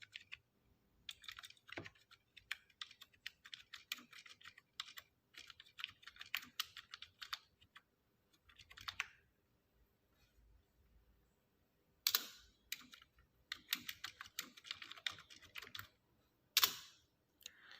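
Steady bursts of typing on a computer keyboard, entering Hindi text while building an exam paper in Word, with rapid clicks in clusters, short pauses and a few sharper key strikes, close and fairly quiet with no talking.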